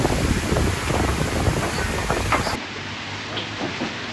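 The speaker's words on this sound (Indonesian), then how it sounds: "Hujan lebat disertai angin kencang." Heavy rain and gusting wind roar in a dense, close wash of noise that suddenly drops to a softer, muffled hiss partway through.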